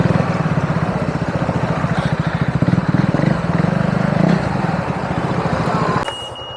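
A KTM Duke 390 motorcycle engine runs close by with a loud, rapid single-cylinder thump that rises and falls slightly before cutting off near the end.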